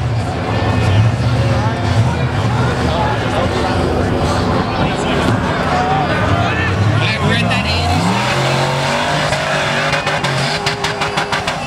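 Off-road race car engine at full throttle during the King of the Hammers Backdoor Shootout, loud and sustained with revving surges and tire noise, a commentator talking over it throughout.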